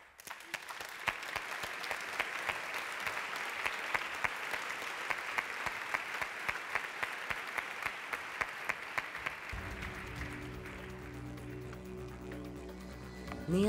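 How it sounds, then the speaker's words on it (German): Audience applause at an ERDgespräche 2019 event hall in Austria, a dense sustained wash of clapping with sharp individual claps for about nine seconds, then thinning out as low music or tones rise underneath. "Einen großen Applaus auch für sie."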